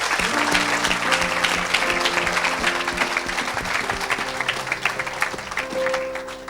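An audience at an evangelistic church gathering applauds, a dense, sustained wash of clapping that holds steady throughout, with a sustained musical tone underneath.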